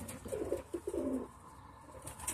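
Soft low cooing of pigeons, a few short throaty phrases close by against faint background noise.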